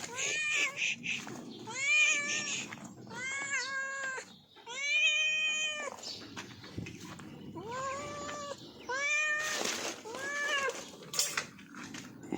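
A cat meows repeatedly in drawn-out, wavering calls, close and fairly loud, with short pauses between cries and faint background noise.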